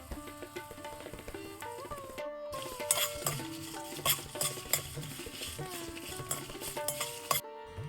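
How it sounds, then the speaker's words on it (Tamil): Cinnamon, cloves, fennel and fenugreek are dry roasted in a pan for a spicy chicken pickle. A spoon scrapes and stirs in a steady rhythm with faint crackling, alongside background music. "இப்போ வறுத்துட்டு இதை ஒரு பொடியாக்கி வச்சுக்க போகிறோம்."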